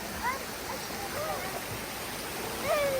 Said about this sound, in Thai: น้ำตกทานทอนครับ